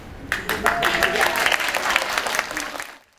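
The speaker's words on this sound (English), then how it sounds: "a kindergarten class clapped with approval" A kindergarten class claps with approval at a school wedding ceremony, a dense, steady burst of many small hands applauding close by for about three seconds before it stops abruptly.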